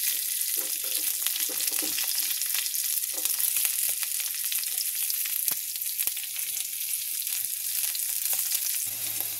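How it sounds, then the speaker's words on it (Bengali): Raisins, cashews and beans fry in a pan of oil for vegetable lemon rice, giving a steady, close sizzle with faint crackles and no voices. "আর এখানে কিশমিশ দিয়ে দিলাম। একটু ভেজে নিই ভালো করে।"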